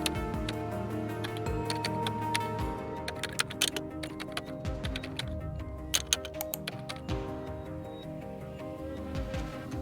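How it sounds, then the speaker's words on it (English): Keys tapped on a computer keyboard while entering a command in Windows Command Prompt, a steady run of close, crisp clicks over a faint constant background hum. "Type power CFG/Hibernate on and press Enter."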